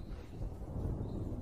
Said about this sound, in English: Looks like there's a storm coming in.